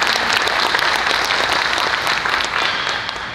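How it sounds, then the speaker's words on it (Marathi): A hall audience applauds to welcome Ganu Saheb at an MIT-WPU gathering: dense, sustained clapping from many hands, loud and even throughout, easing off slightly at the very end. "परत एकदा टाळ्या वाजवून गानूसाहेबांचं स्वागत करूया"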